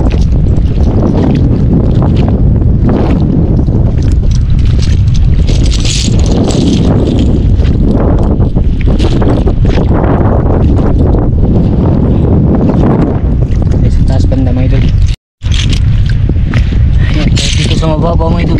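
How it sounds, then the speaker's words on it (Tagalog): Very strong wind buffets the microphone on a beach, a loud, constant roaring rumble with gusty swells throughout and a brief dropout near the end, with some talk mixed in. "sobrang lakas pa rin ng hangin"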